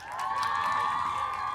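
A large audience at a university talk show cheers and applauds in a continuous, fairly distant wash of clapping and voices, steady throughout with no single speaker standing out.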